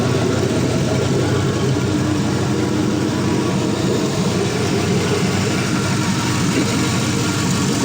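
A 4.8L Gen3 V8 engine package with a return-style fuel rail runs at a steady idle, a constant close rumble with no speech.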